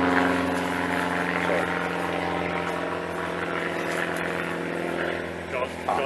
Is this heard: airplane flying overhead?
yes